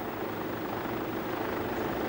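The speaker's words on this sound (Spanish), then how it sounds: "el helicóptero de Cousteau maniobra acrobáticamente para recoger a Jean-Michel" Cousteau's helicopter flies acrobatic maneuvers over the Sea of Cortez, heard as a steady, loud engine and rotor roar with no voices.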